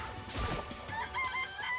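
Quick clucks and squawks from a chicken in the Danganronpa video game, a short close run of bird calls with a brief impact underneath.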